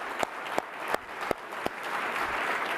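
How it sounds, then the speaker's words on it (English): An audience at a talk on AI and education applauds, a few distinct claps at first swelling into steady, moderately loud clapping. "Rachel and Sal, let's give them another round of applause."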